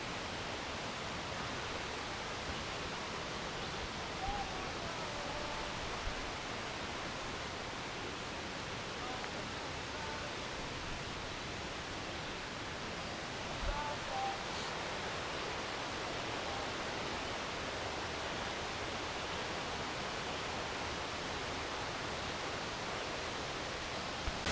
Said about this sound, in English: Just kind of enjoying the sounds of the creek right now.